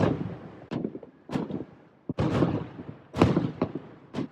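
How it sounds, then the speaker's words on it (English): Fireworks burst in the air seen from a balcony, a series of sharp thumping bangs at irregular intervals, some sounding nearer and louder than others, each with a brief rumbling tail. "Do you guys see the fireworks?"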